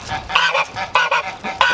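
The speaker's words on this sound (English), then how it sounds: "Noisy geese. They're going mental for some reason." Geese at a lake honk noisily in a rapid, agitated series of loud nasal calls, close by, with no talk.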